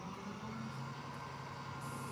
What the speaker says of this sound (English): A moment of silence for the trash truck to pass by.